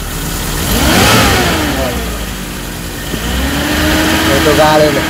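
A commercial vehicle's engine revs up and down as the throttle is pressed, rising twice in smooth sweeps from a steady idle, close and loud without misfiring.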